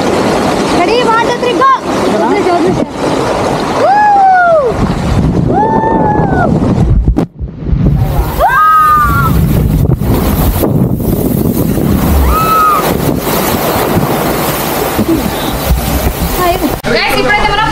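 Rushing water and wind on a boomerang water slide at Vizag Water World waterpark, a loud continuous whoosh with a brief dropout midway, while excited voices shout and talk over the ride.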